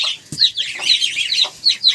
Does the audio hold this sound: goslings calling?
yes